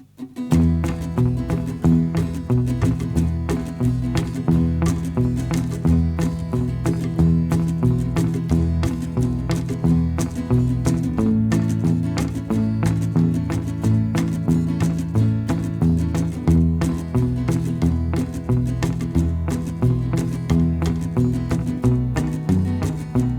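Twangy guitar picked over a country backing track, with a steady boom-chick rhythm of bass and strummed chords, continuous and close, no voices.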